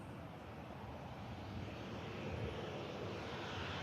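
An Emirates Airbus A380 jet just after pushback at Manchester Airport gives off a steady, broad engine roar and rumble, fairly distant, swelling slightly toward the end with some wind noise mixed in.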